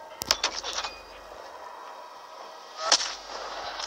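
Sniper rifle fire in the Hitman video game with Agent 47, two sharp loud shots about two and a half seconds apart, each with a ringing tail over a low game background.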